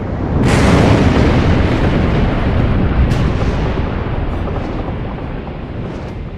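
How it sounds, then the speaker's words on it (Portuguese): Mount Vesuvius erupting in 79 AD near Pompeii, a tremendous, loud broadband boom that bursts in and rolls on as a sustained roar, with further blasts rising through it. "um tremendo estrondo chama a atenção dos moradores de Pompeia para o Monte Vesúvio"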